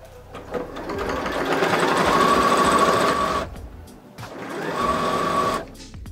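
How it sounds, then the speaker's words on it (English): A sewing machine runs a single-fold hem on a quilted viscose challis skirt, whirring steadily in two sustained runs separated by a brief pause, close and fairly loud with no talking. "So just folding over and then sewing in place."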